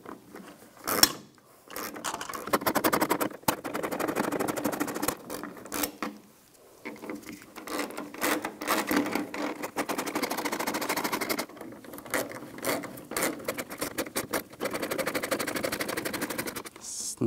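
A ratchet tightens the fuel pump module screws on a 2011–2018 RAM 1500 3.6L, giving close, rapid clicking runs in several bursts separated by short pauses, with faint handling noises between them.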